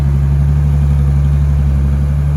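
A loud, steady low engine rumble, a tractor idling close by on a slippery muddy road with an even, unbroken drone.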